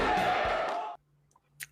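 A wrestling crowd roars and cheers loudly in a dense, sustained wall of noise that cuts off abruptly after about a second, leaving near silence with a couple of faint clicks.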